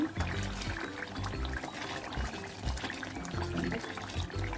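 Tamarind pulp simmers in oil on a stove, popping and bubbling with irregular soft sputters and a faint liquid trickle, close and quiet.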